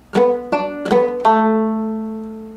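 Four plucked guitar notes played as a pull-off ring out in quick succession, the last one sustaining and slowly fading, with no talking.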